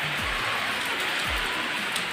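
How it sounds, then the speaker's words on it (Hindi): Steady rain falling outdoors during a storm in the Nautapa heat season, a continuous even patter and wash with no voices. "अब बारिश चालू हो गए"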